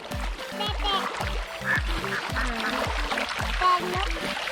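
Several ducks quack in quick repeated bursts on a Thai farm with fish and prawn ponds, close by, a busy chattering flock with a few higher calls mixed in.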